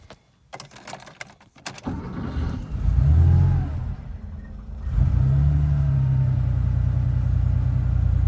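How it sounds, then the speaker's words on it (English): A 1980 Porsche 911SC air-cooled flat-six on a cold start, opening with clicks and jingles before the engine catches and revs up twice, then holds a loud, steady high idle, close up. "But that is a cold start."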